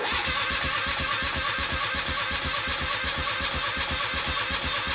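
A Moto Guzzi cafe racer motorcycle's starter cranks the engine in a fast, rhythmic chugging churn that holds loud and steady throughout without catching.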